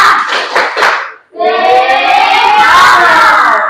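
A classroom group performs a rhythmic clapping chant, a few sharp claps in a pattern followed by loud group cheering and shouting close by.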